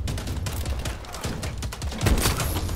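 Rapid gunfire in the Call of Duty Vanguard video game, with dense continuous bursts of shots and booms filling the whole short stretch.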